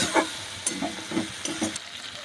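Spice paste loosened with a little water and stirred in a pan for a fish-head and cabbage curry, a few separate close scraping strokes over a soft sizzle.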